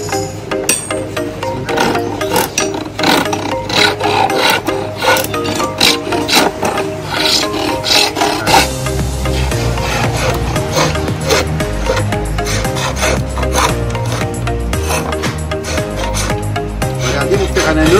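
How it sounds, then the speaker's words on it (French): A Berber bow drill works wood in a Marrakech souk workshop, giving rapid repeated scraping and rasping strokes with a steady back-and-forth rhythm, close and fairly loud amid market noise. "Regardez la perceuse berbère."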